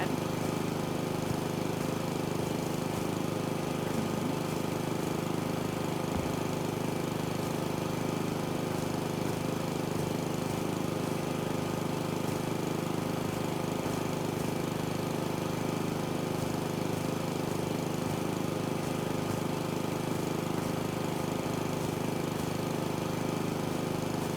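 A hover lawnmower mows grass in the video game House Flipper 2, giving a steady, continuous engine-like hum and drone that holds level and unbroken throughout, with no talk over it.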